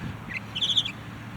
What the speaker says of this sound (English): There's a bird in it somewhere peeping at me.